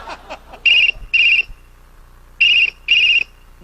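A telephone at a phone booth rings in two paired bursts of shrill electronic trilling, each pair separated by a short pause, loud and close; faint vocal sounds precede the first ring.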